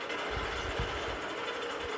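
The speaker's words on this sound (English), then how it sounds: "How long have you been waiting for this sewing machine?" A new sewing machine runs with a steady, fairly quiet mechanical hum and rapid low thumping of the needle, continuous throughout with no talking.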